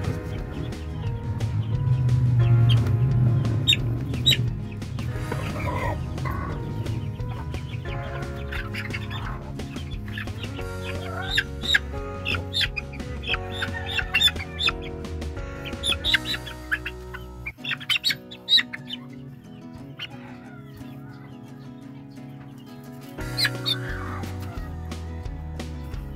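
Chicks peep and cluck in short, scattered bursts close by, over a low background hum that cuts out partway through.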